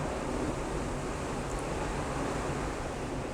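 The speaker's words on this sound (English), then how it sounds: "Hear the waves crashing off the ship." Ocean waves rush against the hull of the cruise ship Celebrity Summit at sea, a steady broadband roar with wind, constant and unbroken, heard alone without any talking.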